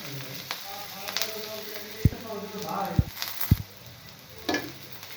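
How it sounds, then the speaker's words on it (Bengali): Garlic fries in oil over medium heat with a gentle, steady sizzle, punctuated by a few sharp utensil knocks against the pan. "আমি এগুলোকে মিডিয়াম আঁচে রেখে ভেজে নিচ্ছি, যেন ভিতর থেকে ভালোভাবে সিদ্ধ হয়ে যায়।"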